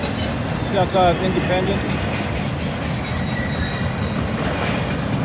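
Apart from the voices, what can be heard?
train passing by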